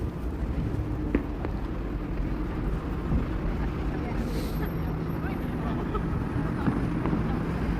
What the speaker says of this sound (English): It's very fucking windy out here.